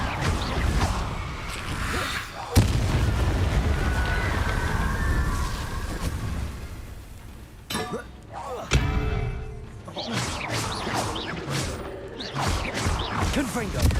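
Confringo and Incendio fire spells burst in Hogwarts Legacy as loud blasts and crackling impacts amid battle noise, with a sharp crack at the start and again midway, under a player calling out spell names.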